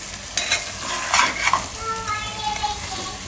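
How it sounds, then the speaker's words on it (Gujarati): Chunks of yam and eggplant stirred in hot oil in a pan for a Gujarati shaak, with steady sizzling, scraping spoon strokes and a few louder clinks close by. "થોડીક વાર એને તેલમાં ફેરવવાનું, એટલે એનું એકદમ સ્વાદિષ્ટ થાય."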